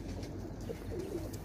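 Pigeons cooing softly nearby in a pigeon loft, a few low murmuring coos over a quiet background, no talking.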